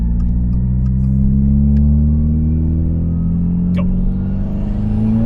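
A 2022 Subaru WRX with a Perrin low-profile intake and return nozzle, engine droning and rising in a loud steady rev heard from inside the car, with a brief spoken word.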